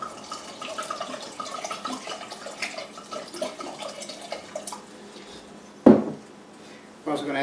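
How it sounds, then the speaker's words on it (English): Chardonnay wine is poured into a pot of roasted garlic soup with chicken stock, making a soft, close liquid splashing and dripping with a few sharper knocks near the end, over a low kitchen background. "And we're going to add some Chardonnay."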